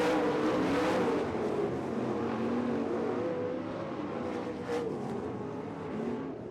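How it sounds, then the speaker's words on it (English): Dirt track race cars roar around the oval on the final lap of a Dirt Devil Grand Nationals event, a steady loud engine drone with rising and falling revs as the cars pass. "1 lap to go. Checkered flag will be coming out for car number 3 from Plymouth, Justin Erickson."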